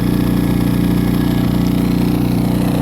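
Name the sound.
Powerhorse inverter generator idling in eco mode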